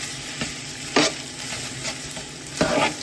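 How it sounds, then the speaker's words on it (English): Seasoned ground beef stirred in a hot pan for a hamburger and cheddar biscuit bake, spatula scrapes landing at irregular moments over a steady close sizzle, one louder scrape near the start and another toward the end. "And then I'm just going to stir it in."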